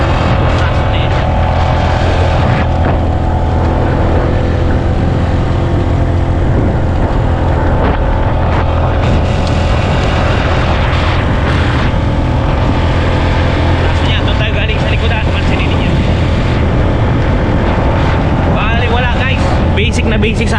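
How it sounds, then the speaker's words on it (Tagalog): A 2025 Honda Giorno 125 scooter engine pulls steadily uphill, a loud continuous drone with rising and falling strain, mixed with wind and road noise and someone talking over it throughout. "Hindi man na nagagalit yung engine natin guys, napapakinggan ninyo."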